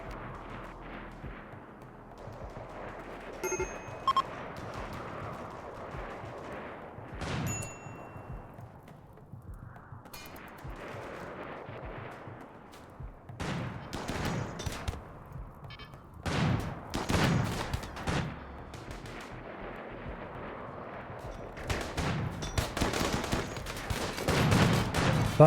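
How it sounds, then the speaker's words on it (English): Gunfire in RimWorld aimed at a uranium slug turret, with bursts of shots and sharp metallic clangs, sparse at first and then dense, rapid volleys, no talk. "Stop shooting at the damn uranium slug turret."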